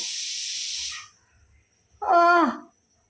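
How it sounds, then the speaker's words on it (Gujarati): A pressure cooker on a home stove lets out a loud steamy hiss, falls quiet, then gives a short, high, wavering whistle, close by and with no voices. "સીટીઓ વાગે કુકર કુકરની સીટી"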